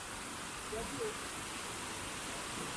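Boti Waterfalls, a 30-meter drop in a Ghana forest, give a steady broadband roar of falling water that holds even and unbroken throughout, with a voice faintly underneath.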